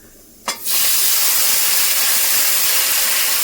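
Tomatoes dropped into a hot oiled pan for a papaya curry, setting off a sudden loud burst of sizzling that settles into a steady, bright hiss.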